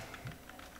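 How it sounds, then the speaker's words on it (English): Soft, quick keystrokes on a computer keyboard, a short run of light taps while entering text in Microsoft Word 2016, quiet and close with no voice. "I am typing"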